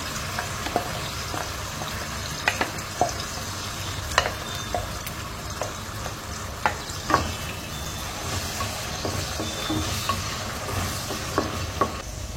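Onion and spice paste frying in oil for pandugappa fish curry, with a steady sizzle broken by repeated scraping and clacking of the stirring spoon against the pan. No one talks over it.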